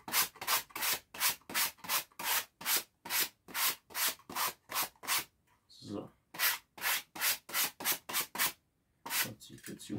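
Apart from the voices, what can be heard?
sanding wood by hand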